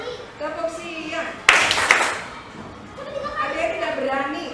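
A short burst of group hand clapping from a classroom clapping game, a sharp cluster of claps lasting under a second amid ongoing talking voices before and after.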